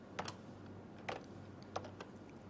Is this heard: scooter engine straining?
no